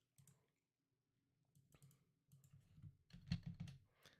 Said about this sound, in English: Sorry, guys, you get to hear me type on my keyboard.